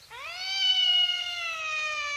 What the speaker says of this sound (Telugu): మ్యావ్